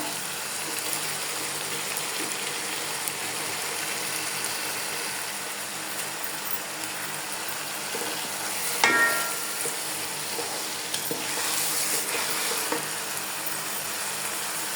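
Rice and lentils for khichuri fry in a pan with a continuous close sizzle, a utensil stirring now and then and one sharper clatter partway through, with no voices.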